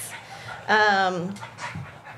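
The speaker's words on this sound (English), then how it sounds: "We've got houndy dogs, boxery dogs." Dogs at a county dog shelter pant in a quick rhythmic burst with a whiny, tonal edge, close by. Softer breathing and low shelter murmur continue around it.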